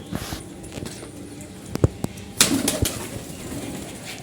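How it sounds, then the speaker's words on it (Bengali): A pigeon is let go by hand at home, giving a short burst of flapping wings at close range amid scattered bumps and footsteps, with voices nearby. "কবুতর দেখেন, আস্তে আস্তে ছাড়ি দাও।"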